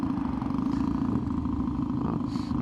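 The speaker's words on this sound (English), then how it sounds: "That's a pretty meaty exhaust there." Royal Enfield Meteor 350 motorcycle idling with a DNA air filter and filter cover fitted, a steady deep exhaust rumble held close and loud for a few seconds.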